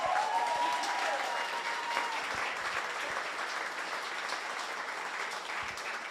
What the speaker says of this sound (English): We need to give her another round of applause.